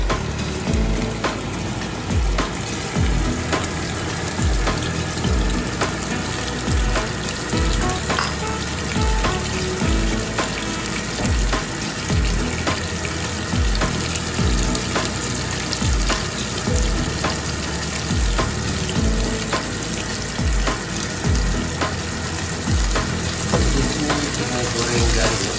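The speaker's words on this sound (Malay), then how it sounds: "Ikan bilis ini kita goreng sehingga betul-betul garing" Anchovies sizzle and crackle steadily in hot oil, a dense continuous frying hiss with occasional stirring clinks.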